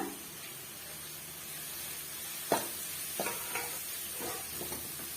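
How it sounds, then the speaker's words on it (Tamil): Ground pepper, cumin and coriander sauté in a pan for tomato rasam, giving a quiet, steady sizzle with a few sharp scrapes and clinks of stirring. "நம்ம பொடி பண்ணி வச்சிருக்க மிளகு, சீரகம், தனியாவும் சேர்த்து அதையுமே வந்து வதக்கி விட்டுக்கலாங்க"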